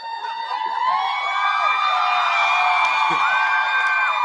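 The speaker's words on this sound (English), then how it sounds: "Y'all are cheering for breaking up a couple?" A fan convention audience at a 2019 celebrity panel cheers and whoops loudly in a sustained swell of many voices that lasts the whole stretch without dropping off.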